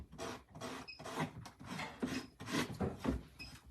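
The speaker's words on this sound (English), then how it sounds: "I think I can take this sanding block and sand off that edge." A sanding block rasping back and forth across the edge of a wooden jewelry box in steady, repeated strokes, close and quiet, with no talking.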